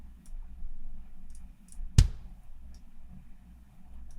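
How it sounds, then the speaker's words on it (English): A single sharp mouse click on a computer during drum programming, close and distinct against a quiet room hum, with a few faint ticks around it. "If I could actually click this"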